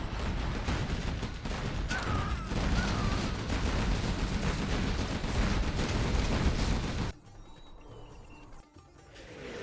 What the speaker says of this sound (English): Artillery coming across the map from Google.